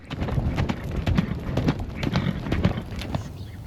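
Steady clip-clop of hooves on hard ground, several horses moving at a walk at an Arizona dude ranch near Tucson, close and continuous.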